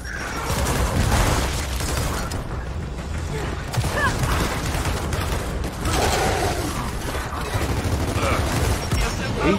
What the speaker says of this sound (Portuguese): Granada de fragmentação!